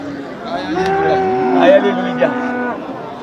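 Cattle mooing loudly nearby at a livestock market in Melapalayam, India, long drawn-out lowing calls overlapping amid background chatter and crowd noise.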